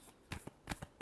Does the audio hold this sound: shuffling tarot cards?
yes